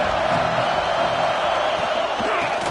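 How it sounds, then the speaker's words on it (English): Stadium crowd in a college football video game, Clemson versus South Carolina, sending up a dense, continuous roar of cheering that holds steady and loud throughout. "This crowd ready to make its presence known."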